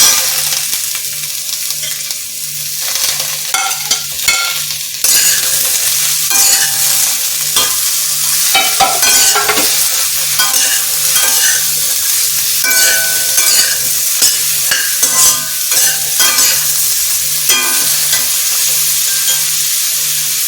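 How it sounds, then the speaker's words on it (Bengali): Ridge gourd is poured into a wok of lightly fried potatoes for Bengali-style alu posto, and the sizzle swells into a loud, close hiss with repeated scraping and clattering as it is stirred for a long stretch. "এবারে আমি এই ঝিঙেগুলো এই কড়াইয়ের মধ্যেই ঢেলে দিচ্ছি"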